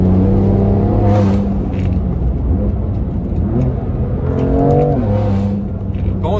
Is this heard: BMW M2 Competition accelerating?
yes